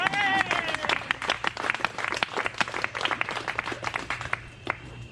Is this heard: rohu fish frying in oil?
no